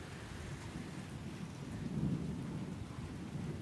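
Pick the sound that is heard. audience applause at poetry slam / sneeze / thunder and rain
thunder and rain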